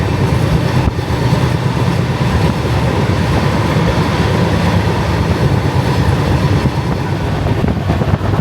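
A sleeper class train running on rails from Kolkata toward Ayodhya, heard from inside the carriage as a loud, steady rumble with faint rhythmic clicking of wheels over rail joints.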